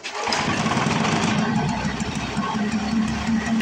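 A Lawn-Boy Gold Series mower engine, primed with gas-oil mix in the carburetor after running on straight gas, catches and runs with a loud, continuous mid-pitched buzz close by, holding steady throughout.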